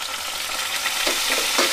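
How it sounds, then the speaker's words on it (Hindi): Curry leaves, chopped green chili and ginger sizzle and fry in hot oil in a pan, a steady close crackle with brief stirring scrapes and no talking. "जीरा होने के बाद हम इसमें ऐड करेंगे कड़ी पत्ता, एक कटी हुई मिर्च और अदरक। इसको अच्छे से भूनेंगे।"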